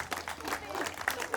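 Spectators at an outdoor strongman competition in Palamuse, Estonia clap in a brief, uneven burst, the claps fairly close and irregular.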